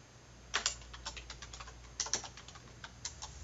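Keys on a computer keyboard clatter in short, quiet bursts of typing, close and clear against a faint low hum.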